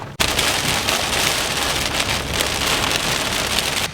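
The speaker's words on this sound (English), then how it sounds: "Got a little bit of rain going on right now. Actually, severe thunderstorm warning." Steady, loud rain pours down on surfaces during a severe thunderstorm warning, a dense continuous hiss filling the whole stretch with no voices.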